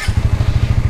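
Suzuki GSX-S150 motorcycle engine fires up from the start button and settles into a rapid, even idle putter, close and loud, with no talking.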